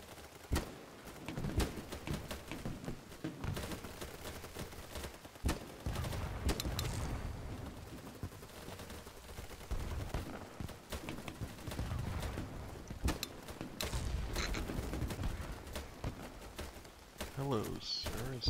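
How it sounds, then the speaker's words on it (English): Gunfire in a Minecraft-style Battlefield game, a steady stream of sharp shots and bursts running throughout at moderate loudness, with a player talking over the action. "Nothing but gunfire."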